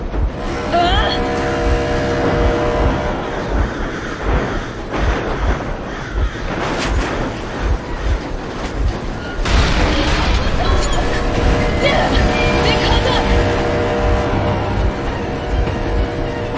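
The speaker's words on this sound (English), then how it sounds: "Stop the engine immediately and come out with your hands above your head." A vehicle engine idles and rumbles in Metro Exodus, a low steady drone running throughout under game dialogue, with occasional louder thumps and booms.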